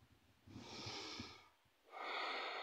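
Two slow, deep breaths during a yoga stretch, a long airy inhale followed after a pause by an exhale, close and soft with no talk.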